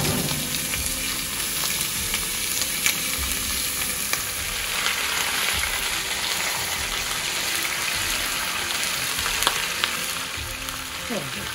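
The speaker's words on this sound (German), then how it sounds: "Schön anbraten lassen." Beef rouladen searing in hot fat in a pan, a steady dense sizzle and crackle with scattered pops, close and continuous with no talk.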